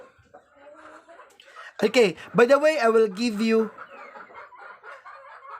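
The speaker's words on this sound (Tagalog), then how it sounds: "Maingay na kasi yung mga manok ko, mag-alas 4 na." Chickens cluck and squawk loudly and close by at around four in the afternoon, sharp overlapping calls in a short burst, with someone speaking before and after the burst.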